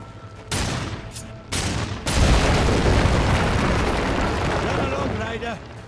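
Explosions in the video game Darksiders 2: a few sharp booming blasts in quick succession, then a loud, sustained rumbling roar of debris and destruction, with some game voice or effects mixed in near the end.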